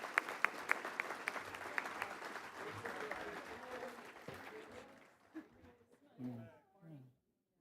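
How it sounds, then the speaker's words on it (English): Audience applause at a college awards ceremony, a dense patter of clapping that starts strong and fades out over several seconds, with a few voices speaking as it dies away. "Let's give them a round of applause."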